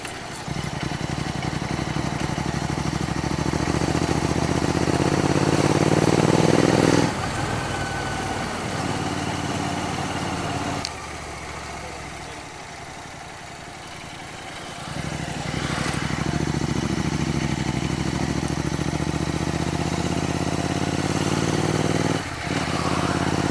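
Royal Enfield Continental GT 650 engine running steadily while being ridden, a continuous loud drone with a brief dip in level partway through.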